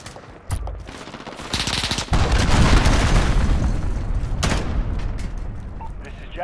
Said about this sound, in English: Allied cruise missile